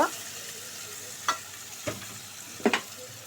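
A paste of nuts, mustard and green chilli fries in a pan with a low, constant sizzle, broken by a few sharp spoon scrapes and taps near the end.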